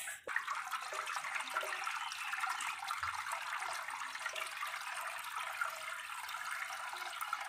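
Water from soaked wheat pouring steadily through a strainer, a continuous close splashing trickle that runs without pause and with no talk.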